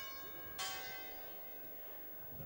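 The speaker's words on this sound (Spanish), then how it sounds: "Aquí estamos, las campanas suenan" A single church bell strike rings out at a festival with a bright, sustained metallic tone that slowly decays, heard faintly from some distance.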